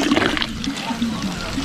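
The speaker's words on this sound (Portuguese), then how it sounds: "eu vou pegar agora um pouco de água natural aqui" Natural mountain water filtered through the hills is collected outdoors near a lake, a steady loud rush and splash of flowing water running continuously throughout.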